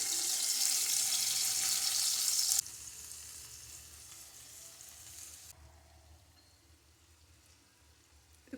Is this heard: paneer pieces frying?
yes